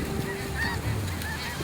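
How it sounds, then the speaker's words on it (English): Snow geese flying high overhead give a few honking calls, faint and distant against a steady outdoor background, with no one talking. "They're flying pretty high, which is typical of snow geese."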